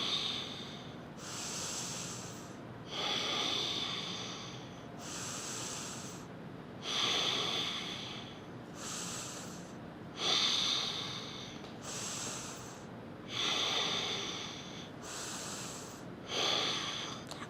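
Heavy breathing during a home yoga toning workout, slow rhythmic hissing exhales and inhales repeating about every two seconds, close and steady with no talk.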